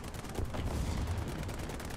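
Gunfire in the tank game War Thunder, a dense continuous rumble of rapid shots and low booms, moderately loud and steady across the whole stretch with no voice over it.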